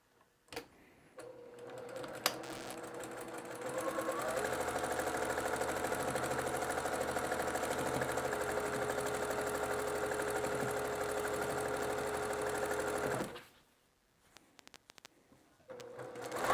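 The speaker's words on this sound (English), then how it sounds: "Now I can come in and follow this seam on the machine." A sewing machine runs continuously for about ten seconds as it follows a seam on free-pieced patchwork fabric, making a steady, close mechanical whir that starts and stops abruptly, with no talking.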